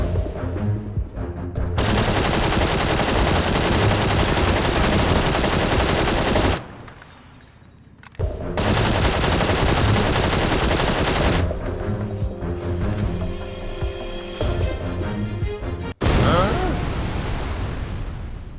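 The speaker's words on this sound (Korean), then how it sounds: "갑자기 근처에서 플레이어건을 쏘는 소리가 들렸고" Sustained loud gunfire from players in a battle royale video game, with rapid automatic bursts and blasts running almost continuously, broken by one short lull.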